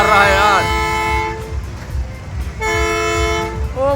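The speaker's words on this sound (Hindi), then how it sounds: "ये ट्रेन का हॉर्न मार रहा है।" A loud, sustained train horn blasts nearby at a fairground, with a bending tone at the start and a second long blast later. A low rumble and crowd noise sit beneath it.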